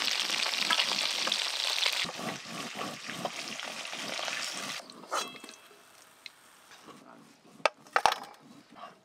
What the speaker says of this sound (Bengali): ঝোলের মাছ তো খুব বেশি কড়া করে ভাজবো না একটু হালকা করে ভেজে নিয়েছি